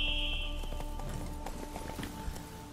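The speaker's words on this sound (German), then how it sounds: "Wir nehmen einfach Plätze und reiten weiter." Horse hooves clip-clop in a steady trotting rhythm while riding on in The Witcher 3, close and moderately loud over a continuous game ambience with a brief high tone at the start.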